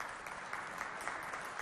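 Steady applause from a studio audience at a televised health-education show in Chad, a dense continuous patter of clapping that stays even from start to finish.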